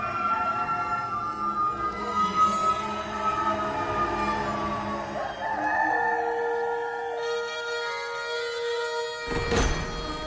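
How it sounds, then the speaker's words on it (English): A rooster crows a long drawn-out call, then crows again, over a background of other farm fowl, with a brief noisy burst near the end. "a rooster crowed"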